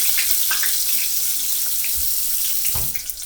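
Hands being washed under a running kitchen tap, a steady close hiss of flowing water with soft splashes and shifting bursts as the hands move through the stream.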